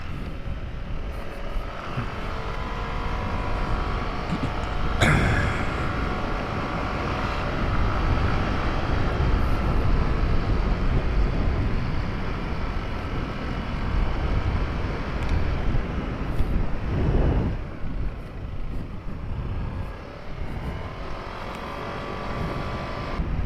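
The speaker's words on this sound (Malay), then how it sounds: "saya mau buat walk around pakai motosikal di UMS ni" A motorcycle rides around the UMS university campus, giving a continuous engine drone under heavy wind buffeting. A few brief thumps interrupt it along the way.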